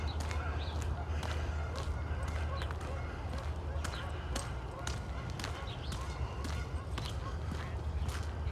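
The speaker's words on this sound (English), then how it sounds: "Geese, lots of those around." Geese honk beside Wascana Creek in Regina in April, repeated calls scattered over steady wind and footsteps on a walk, moderately distant.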